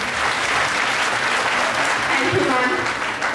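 A police Women's Day gathering in North East Delhi claps loudly and continuously for a boxer, a thick steady roar of applause while a voice briefly speaks over it.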